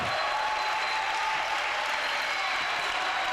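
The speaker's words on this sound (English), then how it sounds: "Now we have most of HU student section on their feet right now, ready to cheer their Foresters on" A student section at a college volleyball match claps and cheers in a dense, sustained wash of applause that holds steady throughout, close and loud.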